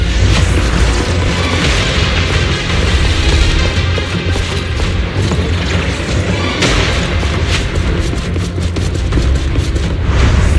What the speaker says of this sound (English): The cocoon is sending out blasts at intervals. When they explode, get to the nearest cover immediately.